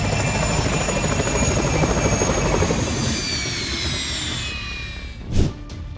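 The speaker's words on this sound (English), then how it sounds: "In fact, it's known as a successful helicopter, a workhorse." A Mi-2 helicopter's rotor and engine drone loudly and steadily, then fade somewhat, ending with a brief thump.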